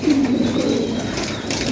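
Racing pigeons cooing inside a loft after feeding, a low throaty coo close by and steady over a soft background.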